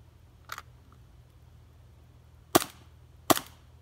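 A Umarex Glock G19X airsoft pistol fires with sharp snapping cracks: one faint shot, then two loud close shots in fairly quick succession, each standing alone over a quiet background hum.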